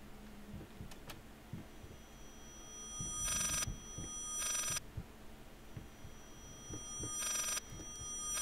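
A telephone rings in the horror game Layers of Fear, bursts of bright electronic trilling arriving in separate rings over a quiet, low ambient hum with scattered soft thumps.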